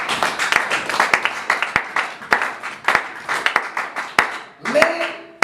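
A church congregation claps in a steady, fairly loud rhythm, with voices and singing carried along under the applause and a brief tonal sound near the end.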